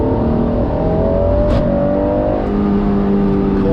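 Honda NSX V6 VTEC engine pulling hard in second gear from about 3,000 revs, a loud, close, continuous rising engine note with steady climbing pitch and no talk.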